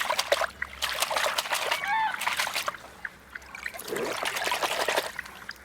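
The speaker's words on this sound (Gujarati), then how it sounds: "આખા પાણીથી સારી રીતે ધોઈ લઈએ" Vegetables washed by hand in water, with trickling, splashing and sloshing close by and a few louder splashes mid-clip; no speech.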